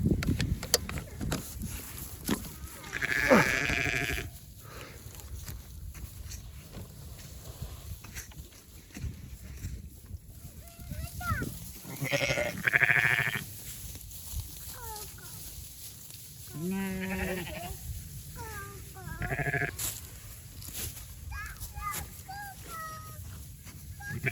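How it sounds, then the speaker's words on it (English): Sheep on a farm during lambing season, bleating in several separate wavering calls scattered across the stretch, some near and some farther off, with people talking in between. "we're over here at the sheep and Dawson's trying to give a snack to them,"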